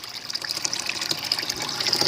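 A 1,200 gallon-per-hour pump drives water through a DIY 20-gallon long aquarium refugium, producing a steady splashing, trickling gush with bubbly detail and no talking.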